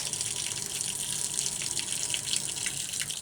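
An outdoor shower fixture on its foot-washing setting runs in a continuous, fairly close splashing stream, with no voices over the steady hiss.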